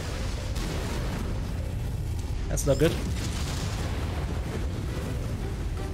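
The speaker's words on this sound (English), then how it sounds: "Explosions!" Explosions in the mech combat game Mechwarrior 5 with the Pirate Tech mod, a brief booming burst near the middle over a constant rumbling battle din, with someone talking over it.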